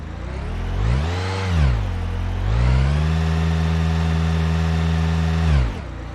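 A car engine idles during a battery and charging-system test, then revs up twice with rising whine, holding a higher steady speed before dropping back; loud, close and without talk.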